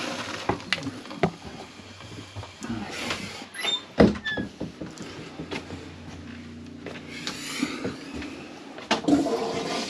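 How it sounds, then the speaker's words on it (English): A toilet flushes with a sudden clunk of the handle, followed by a steady rushing of water and draining gurgle, with people talking briefly nearby. "Let me try flushing the toilet."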